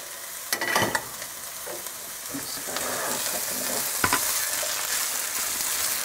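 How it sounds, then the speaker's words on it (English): Meat pie filling stirred in a frying pan, a steady sizzle with a few louder scraping strokes of the spoon near the start and again around the middle, close and continuous. "Stir it up."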